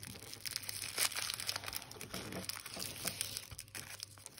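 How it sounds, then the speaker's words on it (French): Ribbon and cellophane wrapping crinkle and rustle continuously at close range as a small ribbon is tied onto a Christmas lollipop decoration, soft and steady with no talk. "on va venir attacher notre sucette avec notre petit ruban"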